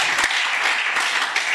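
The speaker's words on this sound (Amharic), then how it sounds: "አጨብጭቡ ለጌታ" A church congregation claps together during a sermon, a brief, lively burst of many hands with a couple of sharper claps near the start, close and fairly loud.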